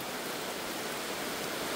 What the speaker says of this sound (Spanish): miren cómo se mete el agua